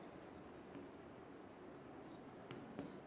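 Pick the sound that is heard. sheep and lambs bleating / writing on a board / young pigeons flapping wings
writing on a board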